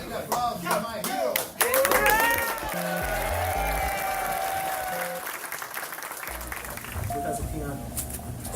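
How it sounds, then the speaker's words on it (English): Clapping and applause on a podcast for Brazilian jiu-jitsu professor Ulpiano Malachias, a short burst of hand claps at the start with a voice talking over the later part. "let's give a big applause for my hero"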